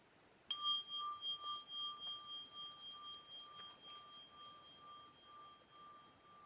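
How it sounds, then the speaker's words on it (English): A meditation bell is struck once to close a mindfulness practice, its clear ringing tone sounding alone and then slowly fading with gentle pulsing over several seconds in a quiet room. "So I'll end this practice with the sound of a bell."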